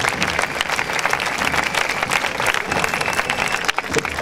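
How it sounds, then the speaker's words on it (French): A crowd claps at the Arles costume festival, loud and continuous applause from many hands outdoors, sustained throughout without pause. "Vous pouvez même applaudir plus fort"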